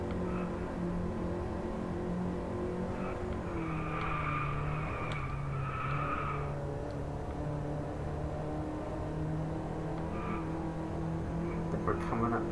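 Race cars in the Drive Club VR racing game skid and squeal through a time trial, with a steady layered engine drone, tire squeals rising midway, and someone talking over the game audio.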